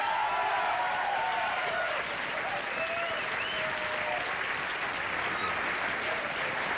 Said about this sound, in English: That was, by the way, the very dictionary definition of a smattering of applause.